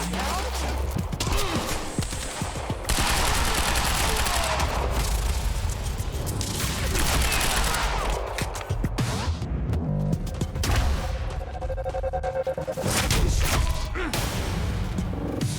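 Automatic turret gunfire in the Quantum Break video game, a sustained barrage of rapid shots and heavy impacts with booms and crashes mixed into dense game action throughout.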